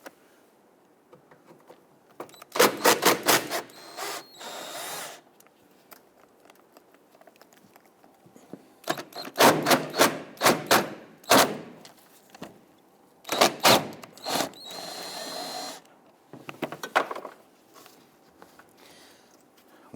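Ratchet or driver working 10mm screws out of a front bumper bracket on an Infiniti G37, close rapid clicking bursts in several separated groups with quiet gaps between.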